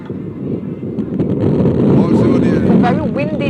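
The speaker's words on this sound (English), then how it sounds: "it's a very windy day" Strong gusts buffet the microphone outdoors on a very windy secondary school sports day, a dense low roar that runs the whole time with faint voices mixed in.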